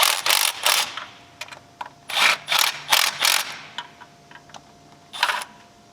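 Bolts on a 2020 6.7 engine are snugged down with a ratchet wrench during a coolant job, heard as short close bursts of rapid clicking pawl ratcheting separated by brief pauses, with no talking.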